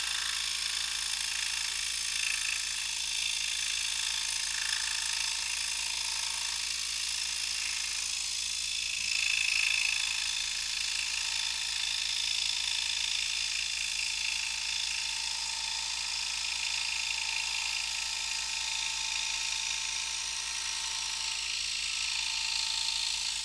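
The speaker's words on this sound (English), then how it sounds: "these Pegasus blades cut in this 1 inch thick red oak" A scroll saw fitted with Pegasus blades cuts through 1 inch thick red oak, making a continuous, even buzzing whir at steady loudness throughout.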